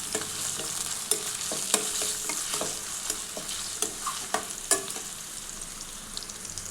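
Chopped onions and slit green chillies sauté in a pan for a bottle gourd dish, giving a steady sizzle broken by repeated clicks and scrapes of stirring. No voices.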